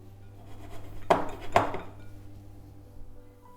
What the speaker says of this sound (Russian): В форму для запекания высыпаю половину картофеля